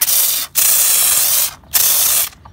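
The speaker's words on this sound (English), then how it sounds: "So here's a quick demonstration of my IK foamer sprayer." An IK foamer pump sprayer sends foam onto a car's undercarriage to lift road salt, in three loud, close hissing bursts separated by brief pauses.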